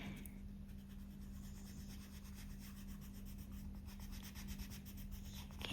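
White colored pencil rubbed across paper in steady back-and-forth strokes, layering over earlier color; a continuous soft scratchy rasp, close and fairly quiet, with a low steady hum underneath.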